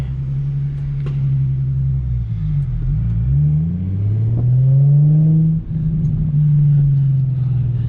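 A V8 car with a manual gearbox rumbles deeply at idle, then revs up in rising, throaty surges that dip and climb again, loud and close with no talk.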